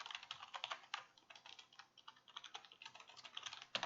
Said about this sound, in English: Helps if I can type properly.